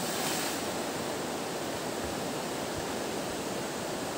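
Water flows in a stream as a steady, dense rush of broadband noise, close and even throughout with no voices.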